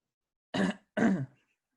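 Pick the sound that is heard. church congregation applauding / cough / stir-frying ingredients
cough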